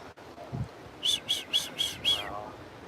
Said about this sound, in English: Oh, wow, listen to this. Check this out. Look at that bird.